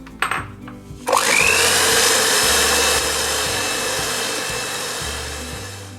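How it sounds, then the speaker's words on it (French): An electric mixer beats egg yolks with sugar and vanilla seeds in a bowl for a Christmas log tiramisu: after a brief clatter it whirs up to speed, then runs as a steady, close, loud motor whine with faint rhythmic variation. "on va battre les jaunes d'œufs avec le sucre jusqu'à l'obtention d'un mélange bien mousseux"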